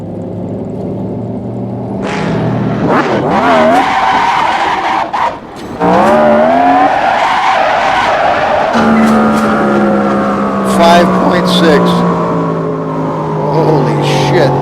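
Turbocharged drag racing car launching hard with tire squeal, then the engine roars and climbs through gears from first to fourth, loud and close with rising pitch sweeps and brief shift breaks, sustained to the end.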